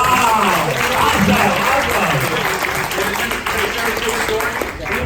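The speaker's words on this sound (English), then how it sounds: "Let's give them a big round of applause." A crowd at a real estate broker panel breaks into a big round of applause, dense clapping close by and fairly loud, with voices cheering and murmuring beneath it throughout.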